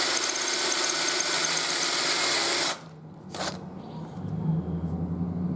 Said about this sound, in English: I'm going to drill down through here, through all these pieces at an angle.